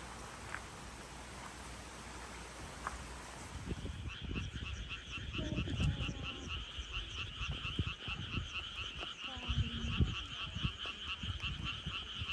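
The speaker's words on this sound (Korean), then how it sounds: "개구리 소리를." A dense chorus of frogs croaks at night in the Korean countryside near rice-paddy paths, starting a few seconds in and continuing steadily as a loud pulsing wall, with faint background noise before it begins.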